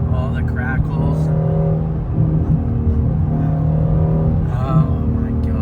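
A 2017 Shelby GT350's exhaust burbles and crackles loudly and continuously with steady engine rumble throughout, close up from inside the car, with people talking over it.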